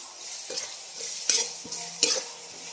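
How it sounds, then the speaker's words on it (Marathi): Onion with green chili and garlic fries in a pan for besan, a soft low sizzle broken by a few sharp utensil clinks and stirring scrapes, with no one talking. "इथं कांदा भाजला आणि त्याच्यामध्ये आपण हिरवी मिरची लसूण सगळं टाकून घेतलंय"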